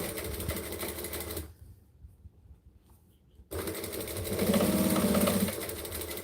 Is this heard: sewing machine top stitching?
yes